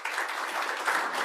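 Audience applause at a regional showcase event, a brief, dense burst of many hands clapping at steady loudness with no voices over it.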